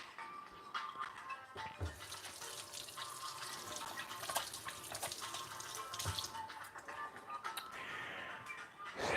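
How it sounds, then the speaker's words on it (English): Hands rinsed under a running kitchen tap while making breakfast, a steady close splash of water flowing and spattering in a sink throughout, with a few brief clatters and no talking. "Rinse off my handies."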